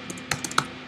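Code being typed on a computer keyboard: a quick burst of about six close, crisp key clicks in under a second, with no talk.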